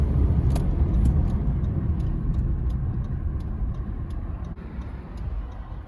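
A car rolling through traffic, a steady low road rumble with light ticking clicks, loud and close throughout with no voices.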